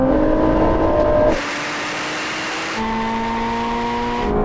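Ford GT and Corvette Z06 in a rolling drag race, engine tones holding steady harmonics before a shift and a broadband roar that settles back into a smooth high-pitched drone, loud and close with no talk.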